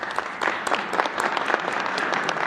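A crowd applauds steadily at a Mexican presidential morning press conference, dense overlapping claps at a moderate, even level with no voices on top.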